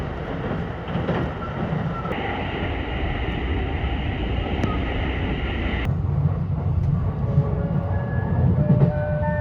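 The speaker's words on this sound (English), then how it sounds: "So the train slides into Nagoya Station" A Limited Express Shirasagi train from Kanazawa runs steadily on rails as it approaches Nagoya Station, its last stop, with continuous loud rolling rumble, a sustained high whine that drops away partway through, and faint tonal squeals toward the end.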